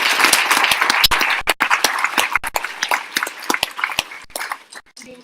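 Applause from an audience at an Arangettram dance recital evening in Hong Kong for Mrs. Sandhya: uneven clapping with sharp individual claps standing out, fading toward the end as a voice briefly comes in.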